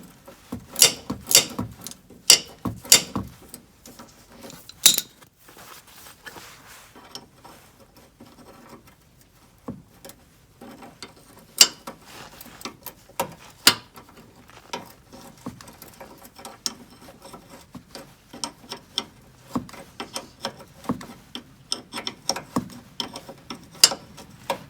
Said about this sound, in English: Yeah, I actually could get this ratchet on this side.